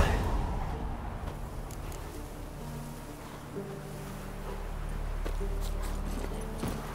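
Roach, the horse in The Witcher 3, runs with a steady clip-clop of hooves over a low rumbling ambient background, with a few louder knocks toward the end.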